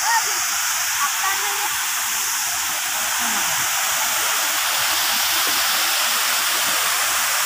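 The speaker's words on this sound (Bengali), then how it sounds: "দেখো ঝর্ণার জল।" A mountain waterfall where people bathe pours in a constant, loud, broadband rush of falling water that stays steady from start to finish.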